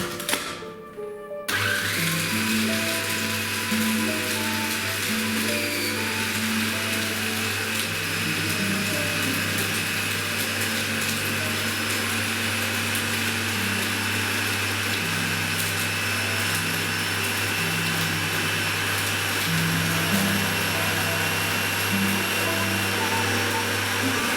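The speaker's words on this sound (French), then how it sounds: "On commence à mixer et on va obtenir une poudre de noisettes, une poudre de pralin." Food processor blade grinding hazelnuts into praline powder, a loud, steady motor whine with shifting pitch as the nuts break down, running continuously after a brief start, close by with no talk.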